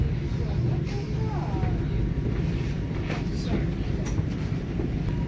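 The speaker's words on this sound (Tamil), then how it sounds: "இந்த ட்ரெயின் இதோடு டெர்மினேட் பண்ணுதான்." A train in an Australian public transport setting, heard as a steady low rumble with faint screeching squeals and clanks, a voice speaking briefly over it.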